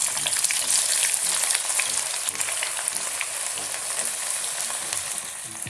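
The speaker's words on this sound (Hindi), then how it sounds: "अब सबसे पहले हम इसमें 2 मीडियम साइज़ के कटे हुए प्याज हैं वो फ्राई करेंगे।" Two medium chopped onions fry in hot oil, giving a steady, close broadband sizzle with crackling spatter throughout and no talking.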